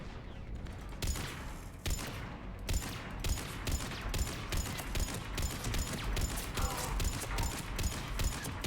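Rapid bursts of gunfire in the sci-fi shooter Mass Effect, steady volleys of shots cracking one after another throughout, loud and close with a dense, continuous rhythm.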